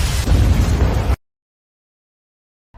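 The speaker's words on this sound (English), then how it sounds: "But can you survive a plasma bomb?" A loud, dense plasma bomb blast in a sci-fi video game cutscene, a roaring full-bodied burst lasting about a second that cuts off abruptly into silence.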